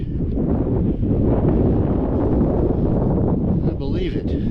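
Steady, loud wind roars and buffets the microphone across the open plains of Texas, a continuous low rumble that keeps going without a break.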